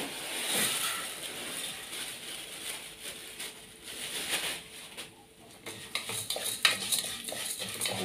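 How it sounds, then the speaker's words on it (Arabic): Rice and vermicelli being stirred in oil and ghee in a home cooking pot, a spoon scraping and clinking against the metal in steady repeated strokes over a faint background sizzle. "افضل اقلب فيها كده بس ايه لحد لما تاخد لون"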